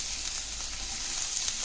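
Sliced capsicum fries in a pan for a chilli paneer roll, a close, steady hiss and sizzle of oil with no talk over it.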